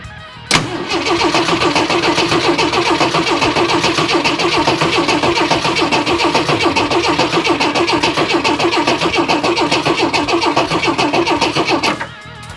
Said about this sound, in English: let me crank it for a little bit and see where we're at.